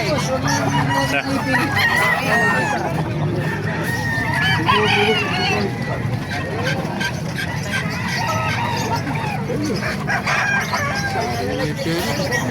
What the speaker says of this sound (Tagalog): Napakarami manok, mga master.